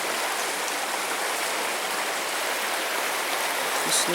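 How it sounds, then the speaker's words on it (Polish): A steady, rushing glacial stream flows nearby near the Zugspitze in Bavaria, a constant bright wash of running water with no pauses. "tutaj właśnie rzeczka w okolicy, przy której się rozbiliśmy. Bardzo taka przyjemna woda prosto z lodowca."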